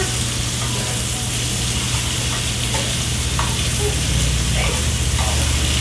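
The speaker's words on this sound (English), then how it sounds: "Just searing them on both sides, getting a nice little cooked surface." Cod fillets sear in a hot pan with vegetables, making a loud, steady sizzle with a constant hiss and small pops that continue without a break.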